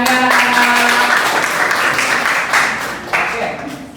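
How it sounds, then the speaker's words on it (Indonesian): A classroom of students breaks into sustained, dense applause that holds steady and then tapers toward the end, with some voices mixed in. "Boleh tepuk tangannya."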